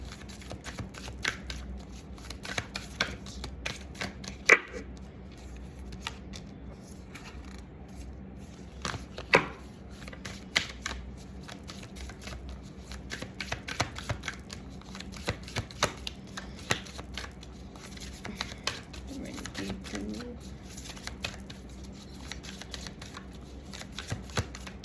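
Tarot cards shuffled by hand, soft quick riffling and sliding with sharper flicks now and then, close and quiet, no talk.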